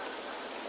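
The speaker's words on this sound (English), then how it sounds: "in case you're wondering why it's raining" Steady rainfall in the OpenRCT2 theme park game hisses as a dense, even wash of droplets, alone and fairly soft for a brief moment.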